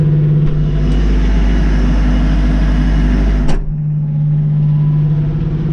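Kubota tractor engine held at about 2,000 RPM, heard from inside the cab: a steady, loud droning hum with a strong low tone, briefly interrupted by a short click near the end.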